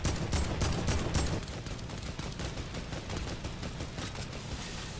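Rapid bursts of video game gunfire crackle loudly in the opening second and a half, then give way to a sustained, dense rattle of shooting and battle noise that continues steadily to the end.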